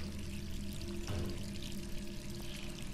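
Water pours steadily from a sink tap in a Resident Evil 3 game scene, a continuous low rushing stream with a faint tonal hum underneath, no speech.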